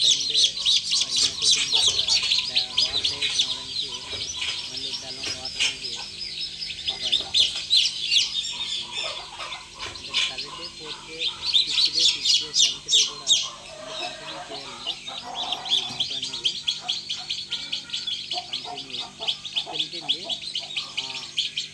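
Many four-to-five-day-old chicks chirp and peep constantly in high, overlapping calls, with occasional clucking and faint background noise.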